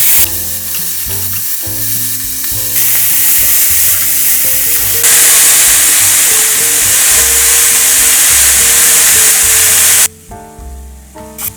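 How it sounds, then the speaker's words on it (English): Chicken pieces sauté in a hot pan for a dry Mangalorean kori sukka, a loud, steady sizzle running throughout and swelling brighter midway before dropping off sharply near the end, with no voices. "We're gonna let it saute for 2-3 minutes."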